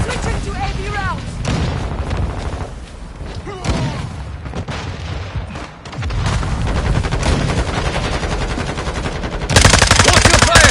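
Machine gun fire using AV rounds in Call of Duty Modern Warfare 2, dense bursts of rapid shots with booming impacts running through the whole stretch, louder at the end, with voices talking over the battle.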